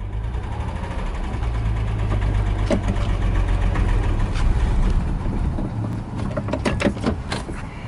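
Classic barn-find car engine idling after a cold start, a steady low rumble held close and loud throughout, with a few brief mechanical clicks and knocks near the end.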